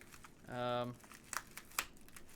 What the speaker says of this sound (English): It's all wrapped in bubble wrap.